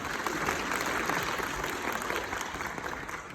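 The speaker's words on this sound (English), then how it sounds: "Give her a round of applause." Audience applause fills a Comic Con Liverpool panel with Josh Dallas: dense, steady clapping from a large crowd that holds at an even level throughout, with no voices over it.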